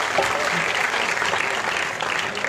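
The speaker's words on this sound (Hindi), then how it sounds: "जोरदार तालियां।" Loud, sustained applause from a crowd at a devotional Khatu Shyam gathering in Japani Park, Delhi, a dense steady clapping that fills the whole stretch without letting up.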